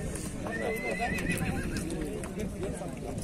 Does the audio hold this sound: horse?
yes